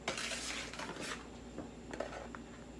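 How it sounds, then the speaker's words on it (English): A spoon stirs sugar into apple bread batter in a bowl, with a steady run of scraping and clinking against the dish, close and moderately loud, no talking. "And then you stir in 3/4 of a cup of sugar"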